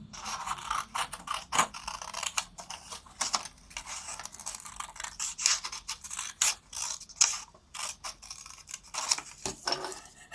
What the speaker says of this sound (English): with your scissors, you need to cut your doors open